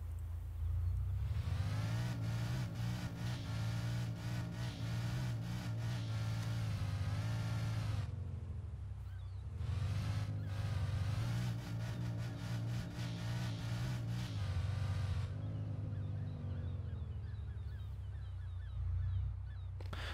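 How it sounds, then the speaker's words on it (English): A game car in a Unity physics test revs and slides with reduced sideways tyre friction, its engine tone droning loudly in two long bursts with a brief dip between them, no voices. "Okay, now the car actually slides."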